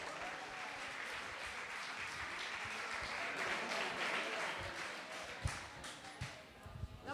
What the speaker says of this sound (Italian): facciamo un applauso al presidente che torna sul palco con noi.